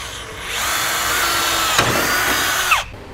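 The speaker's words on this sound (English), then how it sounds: "I'm going to start off using a 1/4 inch drill bit just to start it." A power drill with a 1/4 inch bit bores a starter hole while installing a Demco Air Force One flat tow brake system on an RV, giving a steady loud whining drone with a brief catch midway and a falling wind-down at the end.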